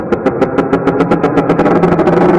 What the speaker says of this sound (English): This is the sound of a creature scratching the floor of the ocean.